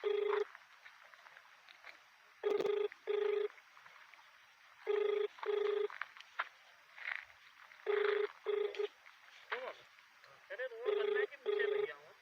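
An unanswered phone call to a district collector rings back in repeated double bursts of tone, evenly spaced across the whole stretch, with faint background voices between the rings.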